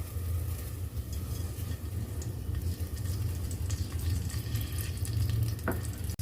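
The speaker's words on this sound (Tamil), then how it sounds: "அதில் இப்போ நம்ம எடுத்து வச்ச நெய் சேர்த்துக்க போகிறோம்." Ghee sizzles and crackles steadily in a hot pressure cooker, close and moderately loud, with a faint knock near the end.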